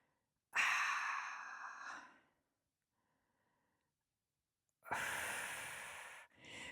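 Two long, deep breaths taken close to the mic during a seated stretching exercise, each exhale lasting over a second, with a quiet pause between them and a short extra breath at the end.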